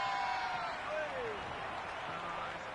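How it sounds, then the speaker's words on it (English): Crowd noise in a cricket video game, a raucous, steady wash of cheering and chatter filling the whole stretch at moderate level with no break. "The crowd are really getting quite raucous."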